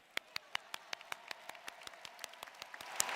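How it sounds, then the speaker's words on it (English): A university graduate commencement crowd claps in evenly spaced, sharp hand claps that thicken into fuller applause toward the end, heard fairly close in a large hall. "We can clap. Let's clap."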